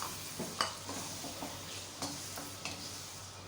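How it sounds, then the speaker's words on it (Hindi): Tomatoes go into a spicy beef biryani masala with cinnamon sticks and chillies frying in a pot, giving a soft steady sizzle broken by several sharp spoon-against-pan stirring clinks. "और टमाटर डाल दें, 2 छोटे साइज़ के मैंने टमाटर लिए हैं।"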